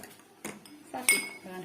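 Glasses and dishes clink and knock a few times during the filling of glasses with a cooled homemade drink in a home kitchen, with a bright ringing chime near the end and soft handling noise between.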